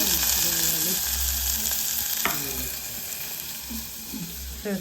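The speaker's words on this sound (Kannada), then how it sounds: "ಒಗ್ಗರಣೆ ಕೊಟ್ಟು ಟೊಮೆಟೊ ಹಾಕ್ಬಿಟ್ಟೆ." Tomato hisses loudly as it hits a hot tempering of mustard seeds, cumin and garlic for rasam, the sizzle staying steady and close, with a few brief voice sounds in the background.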